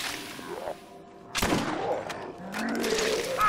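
A sharp, loud gunshot rings out in the shooter game Borderlands, followed by further bursts of fire mixed with creature snarls and game effects.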